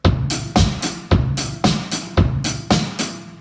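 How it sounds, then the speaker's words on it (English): A basic pop beat on a drum kit in 4/4: bass drum, snare and hi-hat alternate in a steady, even pattern of sharp, loud, close strikes, about two per second, with cymbal wash between them and no voices. "Now, second one we're going to go on to is a basic pop beat."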